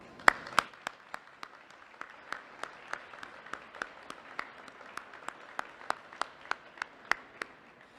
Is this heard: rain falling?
no